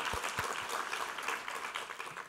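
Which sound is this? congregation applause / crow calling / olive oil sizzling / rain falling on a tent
congregation applause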